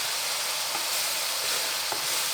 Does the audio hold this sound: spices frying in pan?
yes